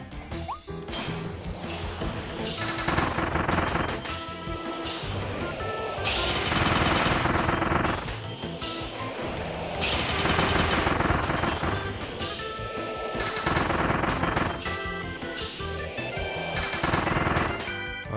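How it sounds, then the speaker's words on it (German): Rapid gunfire bursts from shooting in the video game Kirby and the Forgotten Land, set in a frozen metro, loud and dense, coming in repeated waves over game music and effects. "Jetzt müssen wir ordentlich schießen."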